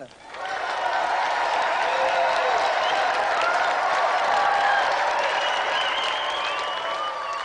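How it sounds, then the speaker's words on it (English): A television studio audience applauds the Nintendo champion and his challenger on a games show, with some cheering mixed into the clapping. The applause swells quickly after a brief quiet start and holds loud and steady. "Another round of applause, then, for Nintendo champion Thomas Patterson and his challenger, Keith Pentland"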